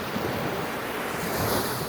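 Sea waves wash onto a nearby shore in a steady, continuous surf roar mixed with wind noise buffeting the microphone, with no one talking.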